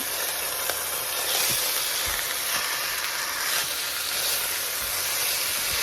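Onions fry in a pan until translucent, a steady close sizzle and hiss with occasional soft stirring knocks.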